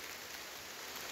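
Steady rain falling on a forest walk, a dense even hiss of drops on leaves and ground, close and continuous with no voices.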